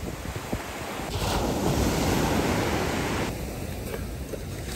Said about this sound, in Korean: 파도도 세지고 비구름도 몰려오고 있어요 지금.